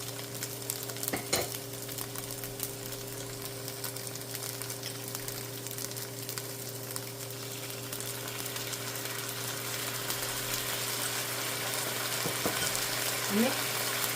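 Tofu frying in a pan with sauce added, a steady loud sizzle with occasional stirring scrapes, continuous and close throughout.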